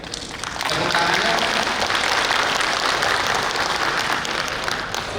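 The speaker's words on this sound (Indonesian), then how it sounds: "Tepuk tangannya." A large hall audience at the 2025 HIPMI West Java regional working meeting bursts into loud, sustained applause after a brief quiet start, a thick continuous wash of clapping welcoming an arriving minister.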